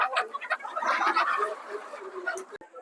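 Chickens at a village poultry farm give a dense, continuous jumble of clucks and squawks with no voices, steady for a few seconds before a brief dip near the end.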